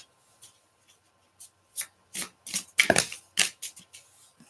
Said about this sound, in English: the shuffling, not so much